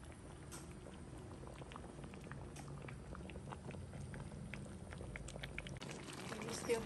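A pot of crab and malunggay simmering in coconut milk bubbles away at a low, steady volume, with soft popping and gurgling bursts scattered continuously over a gentle background hiss.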